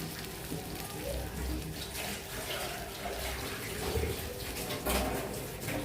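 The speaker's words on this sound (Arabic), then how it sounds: "نحط له ميه سخنه" Hot water poured into a pot of buffalo beef tongue cooking for an Egyptian dish, a steady splashing, rushing stream filling the pot, fairly close and continuous for several seconds with no talk.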